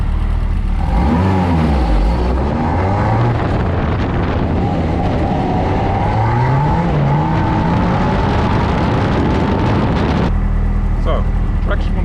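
A BAC Mono with traction control fully off accelerates hard and slides, its engine revving loud and close with rising and falling pitch and steady wind rush throughout, then cutting off near the end.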